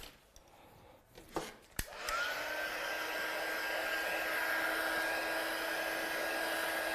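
Close rustles and a sharp click come first, then a heat gun starts up and blows with a steady, loud whirring hiss while drying a watercolour painting.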